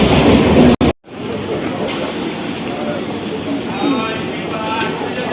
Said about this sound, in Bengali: এট লাস্ট আমাদের স্টেশন আসছে ক্যান্টনমেন্ট, এতক্ষণ পর। অনেক লেট করেছে আজকে ট্রেনটা।